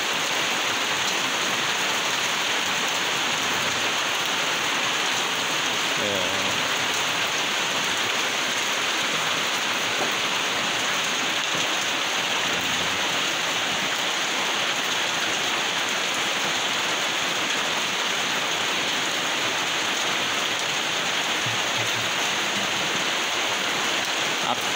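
Morning rain falls steadily and loudly outside a house, a dense unbroken hiss of drops on surfaces that holds for the whole stretch.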